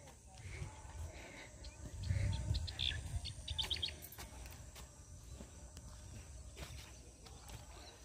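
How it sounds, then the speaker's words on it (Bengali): Birds chirping outdoors at a scenic spot in Sylhet, Bangladesh: faint, scattered high chirps over low wind rumble and soft background noise. "আমি পাখিদের শব্দ নিচ্ছি।"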